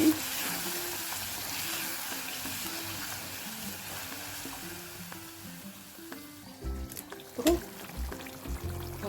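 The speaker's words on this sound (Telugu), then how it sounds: "ఇప్పుడు చింతపండు గుడ్డు వేసుకోవాలి బాగా ఉడకాలండి ఇది దగ్గరికి రావాలి" Tamarind pulp bubbling and cooking down in a pan for tamarind rice, a soft continuous sizzle with faint stirring and watery sounds, getting busier with clattering toward the end.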